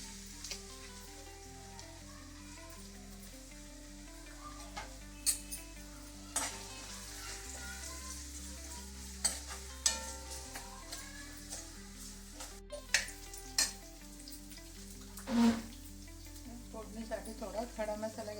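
Chopped onion hits about two ladles of hot oil in a pan, sizzling steadily throughout, with occasional stirring scrapes and pan knocks and faint background sounds.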